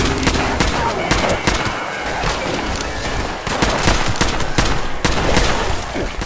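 Rapid gunfire from Fallout 76 crackles throughout, dense overlapping shots and bursts in a busy, loud fight with background game noise.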